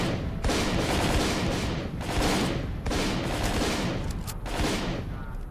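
Heavy bursts of automatic gunfire from the video game S.T.A.L.K.E.R. Call of Pripyat, loud and close, rattling in several long volleys separated by brief pauses.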